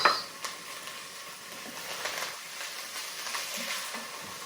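Potatoes drop into a pot of purple cabbage sweating over heat, a sharp clatter at the start giving way to a soft, steady sizzle and faint stirring, no talking.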